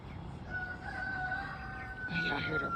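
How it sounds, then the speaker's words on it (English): A rooster crows in the early morning in Africa, a faint distant call rising near the end over soft background ambience with a thin steady tone. "Oh, y'all hear the rooster crowing"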